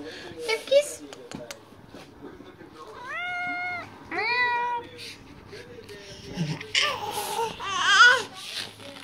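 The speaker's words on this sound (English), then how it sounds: "For anybody that likes cats, here's one of mine." Domestic cat meowing several times, drawn-out rising and falling calls close by, mixed with a baby's babbling and laughter and adult voices talking around it.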